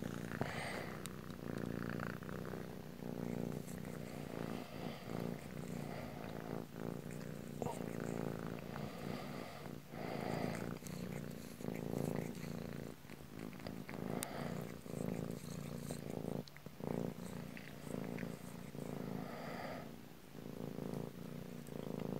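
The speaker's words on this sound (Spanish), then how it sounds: "Ronroneando este gatito." A cat purrs up close in a steady, soft, rhythmic rumble that rises and falls with each breath, faint but continuous throughout.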